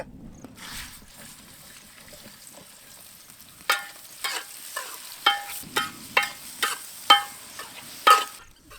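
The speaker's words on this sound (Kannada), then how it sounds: "ಅಡುಗೆ ಎಣ್ಣೆ ಸಣ್ಣಗೆ ಹೆಚ್ಚಿದ್ದು ಉಳ್ಳಾಗಡ್ಡೆ" Finely chopped onion frying in cooking oil for a pangasius fish curry, with a low sizzle under a series of about ten sharp rhythmic scrapes and clinks of a spoon stirring in the pan.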